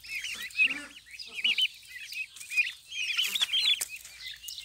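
A small flock of turkeys clucks and chirps nearby in quick, high, wavering bursts, bunched into two busy clusters with short lulls between, close and moderately loud, with no talk.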